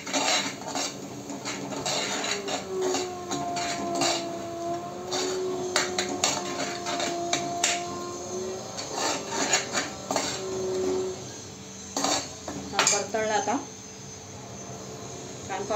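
Turmeric is stirred and sautéed in a pan before mutton goes in, with busy metal-on-metal scraping, clinks and rubbing strokes over a light sizzle, and a voice talking at times.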